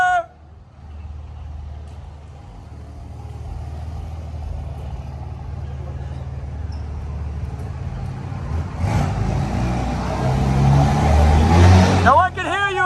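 A truck engine revs at a street protest, a low rumble underneath shouting voices that swells into a loud, close roar in the final seconds.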